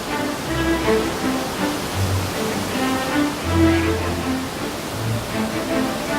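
Rainbow Falls waterfall roaring from close range, a loud, steady broadband rush of falling water that holds constant throughout with no voices.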